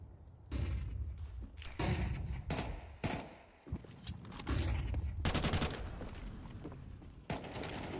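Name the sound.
gunshots in Counter-Strike video game match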